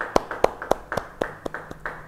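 People in a church congregation clap in a fast, even rhythm, with sharp, close claps at regular intervals and no voices.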